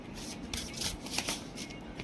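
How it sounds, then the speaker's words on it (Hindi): Tarot cards are shuffled and slip loose, falling during a reading. The rustling and fluttering is continuous, close and fairly soft, with no clear speech. "कार्ड्स खुद ब खुद गिर रहे हैं"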